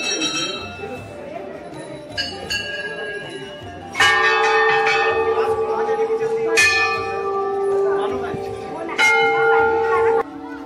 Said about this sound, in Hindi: देखिए कितना भव्य नज़ारा दिख रहा है, घंटियों के बीच से हम गुजर रहे हैं।